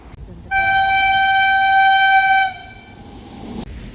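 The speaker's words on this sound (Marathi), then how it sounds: "ही जी गेली नाही बहुतेक वंदे भारत ट्रेन असा." A Vande Bharat train passes through Sawantwadi railway station, sounding one loud, sustained horn blast of about two seconds that stops abruptly, followed by fainter rumble and station ambience.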